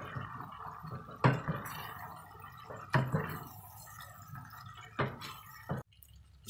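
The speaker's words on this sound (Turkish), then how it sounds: "Şimdi şöyle bir karıştırıyorum." Stirring a green tomato dish seasoned with salt and red pepper flakes gives soft, wet squishing scrapes close by, with a few sharper clacks of the utensil against the pot.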